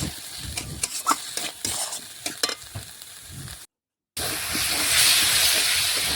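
Potatoes sauté in spice paste over a wood fire in a clay stove, with loud sizzling and repeated scraping stirs, a brief gap, then a denser rising hiss and crackle.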